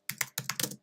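Quick keystrokes on a computer keyboard, in two short clusters of close, crisp clicks with a brief gap between them, fairly soft and with no voice.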